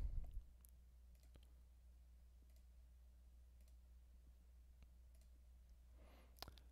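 Sparse computer mouse clicks while working in an Excel spreadsheet, a few sharp isolated clicks spaced apart over near silence, with one more prominent click near the end.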